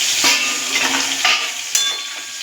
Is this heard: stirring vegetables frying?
yes